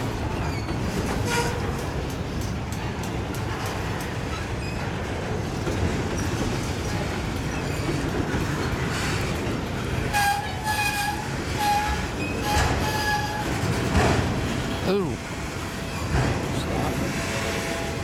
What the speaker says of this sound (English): I'm sure this is a long train.